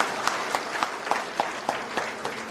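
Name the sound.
audience applause at a meeting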